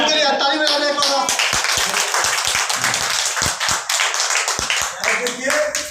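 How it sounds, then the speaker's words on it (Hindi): A seminar audience claps together, a dense burst of many hands at close range with a few sharper individual claps standing out, while a voice carries over it. "उनके लिए ताली बजा दें एक बार।"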